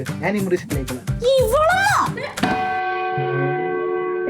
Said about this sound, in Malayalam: പള്ളിയിലെ മണിയടിക്കുന്നുണ്ട്.